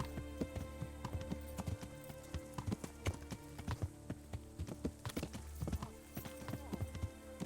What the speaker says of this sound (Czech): Kůň.